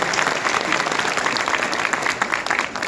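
Dense audience applause at a Hindi-language motivational seminar, steady and continuous at close range with a busy crowd texture and no voices standing out.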